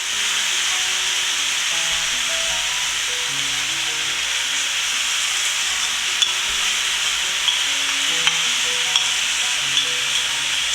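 Beef and broccoli stir-frying in a pan gives a steady loud sizzle throughout, with soft scraping of a utensil stirring the food and a few small clicks.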